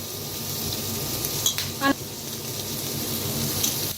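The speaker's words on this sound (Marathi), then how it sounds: "तर बघा कांदा टमाटो छान असं भाजलंय" Onion and tomato frying in oil for a restaurant-style egg curry, a steady low sizzle running throughout with a few brief clinks of a spoon against the pan near the middle, no voices.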